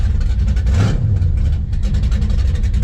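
A Chevrolet El Camino with an LS engine swap and a Holley Sniper setup idles while warming up, a loud, close, steady low rumble with a slight rise in revs near the start.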